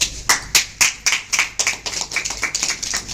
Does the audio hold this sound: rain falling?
no